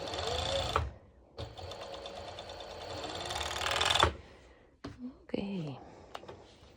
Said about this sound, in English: I'm going to serge it, and the same, I will not be adding elastic on this part